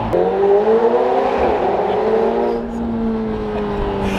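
A McLaren 720S Spider engine roars loudly and steadily, its tone sliding slightly in pitch with a whirring turbo edge, heard from inside or close by.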